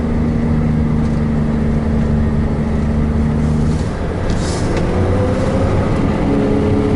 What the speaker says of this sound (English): you'll see the exhaust brake sort of make a bit of sound